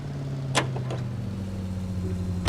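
A car driven in the L.A. Noire video game, a low steady engine hum with a few sharp clicks and knocks over it, fairly close.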